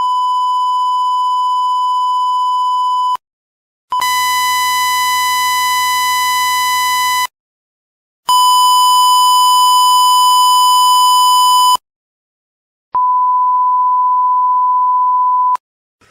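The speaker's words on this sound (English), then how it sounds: "Just a reminder, these are all 1 kHz tones." Four 1 kHz test tones played from a cassette deck, each lasting about three seconds with short silences between, loud and steady; some come out clean while others carry dense harmonic distortion and low hum.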